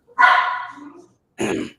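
A dog gives two close barks: a longer, strained first bark, then a short, sharp second one after a brief pause, with no voices over them.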